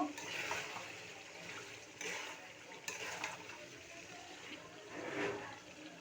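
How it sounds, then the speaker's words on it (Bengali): Halim spice mix being stirred into ready-made halim in a cooking pot, giving soft, faint scraping and wet swishing strokes that return every second or two at close range. "এটা এখন এটার সাথে মিক্স করে নেব"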